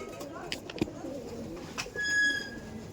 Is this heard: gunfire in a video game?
no